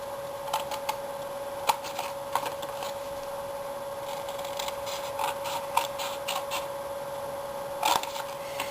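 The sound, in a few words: cutting paper flaps for a treat box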